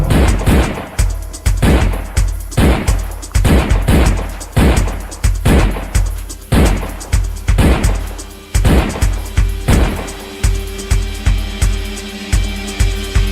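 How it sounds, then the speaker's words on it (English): Gunshots played as a show intro, a long run of sharp, loud bangs in a steady, evenly spaced rhythm, each with a short decaying tail, close and dominant with no talk over them. "Could y'all hear those gunshots?"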